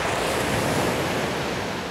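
Sea waves wash steadily onto a rocky shore where fishing boats sit in the water, a continuous loud roar of surf mixed with wind buffeting the microphone.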